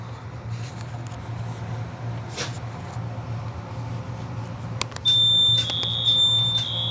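A smoke alarm sounds during a fire alarm system inspection: a steady low hum fills the space, then a loud, piercing high-pitched beep starts about two-thirds of the way in and continues to the end.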